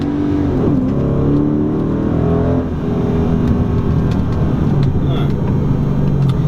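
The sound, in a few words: Dodge Challenger R/T accelerating in first gear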